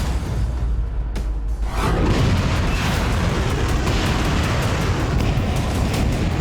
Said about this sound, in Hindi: रूस की इस्कंदर मिसाइल आकर गिरी और खार्किव में यूक्रेनी सेना का हेडक्वार्टर मलबा बन गया